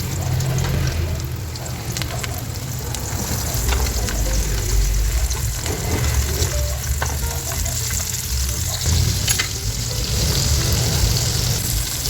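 A second batch of small tawilis fish fries in hot oil with a loud, steady crackling sizzle, close and continuous, with occasional sharper pops and no talking.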